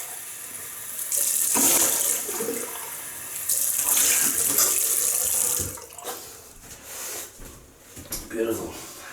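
A sink tap runs in strong bursts as the face is rinsed after a double-edge razor shave, with the flow stopping and starting and splashing near the microphone, then quieter handling sounds.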